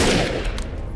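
Snap rifle fire in the shooter Defiance, a dense burst of gunfire that starts loud and tails off into a rattling decay within a second.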